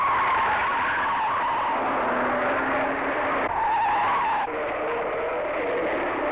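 Race cars, a Ford Falcon and an Alfa Romeo, running in a twelve-hour endurance race, a loud continuous engine roar with tire squeal and shifting pitch as they pass close by.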